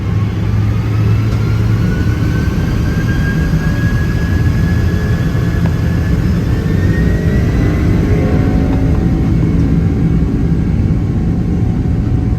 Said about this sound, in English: an empty Boeing 767 with only minimal fuel on board for such a short flight was pretty much like a rocket on takeoff